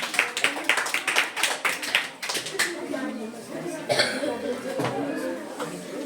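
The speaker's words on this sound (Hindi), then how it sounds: "बहुत बढ़िया, जोरदार तालियां पूजा के लिए।" Schoolchildren in a geography class clap for a classmate named Pooja, a loose run of sharp claps near the start that fades as a teacher's voice and room chatter carry on.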